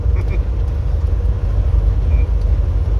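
A car driving along a road in Quebec province makes a steady low rumble of road and engine noise from inside the cabin, with no break.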